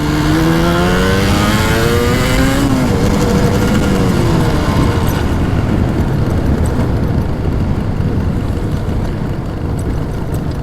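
A 1985 Yamaha TZR 250 two-stroke motorcycle engine revving hard, a loud, raspy rising whine that climbs in pitch through the first few seconds, then settles into a dense, constant high-rev roar with no talking over it.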